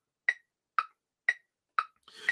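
Four evenly spaced metronome clicks at a slow, steady beat, sharp and close, with a softer breathy tone of a Native American flute starting at the end.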